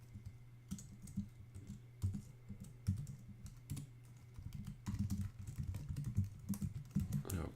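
Fast typing on a computer keyboard, dense close-up clatter of keystrokes in uneven bursts with brief pauses, over a faint background hum.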